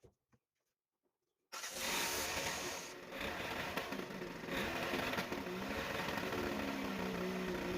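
Ford Transit Connect engine with a failed wet belt firing up after near silence, then running loud and rough with a steady, noisy drone.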